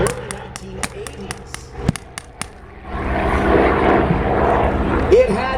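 An AD Skyraider single-seat attack aircraft, a propeller plane, flies past at a re-enactment. A droning engine roar swells and holds, preceded by a rapid series of sharp pops, and a person speaks briefly.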